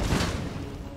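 Howitzer firing in Empire Total War, a single deep boom at the start with rumbling battlefield noise trailing off through the rest of the second.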